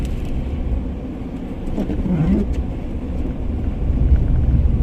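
A car speeds past on a snowy road in Konya, its engine rumble and tire noise swelling and fading against steady in-car road noise, heard from inside a moving vehicle.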